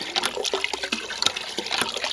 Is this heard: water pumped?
yes